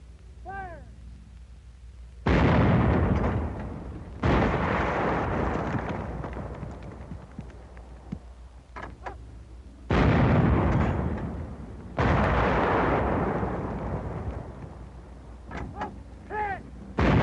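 Artillery fire striking a concrete pillbox at about 800 yards in a military training film: several heavy, loud booming blasts in separate bursts, each with a long rumbling decay, between quieter stretches.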